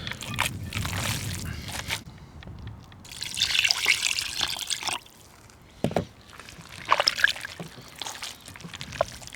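Water trickles and pours into a bowl of minced meat being thinned for khinkali filling, with intermittent splashy bursts and liquid dribbling at close range.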